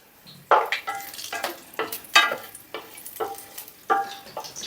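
Whole spices fry in hot oil for an Afghani chicken curry: bay leaves, cinnamon, cardamom and cloves crackle and sizzle in a pan, with repeated sharp stirring scrapes at close range.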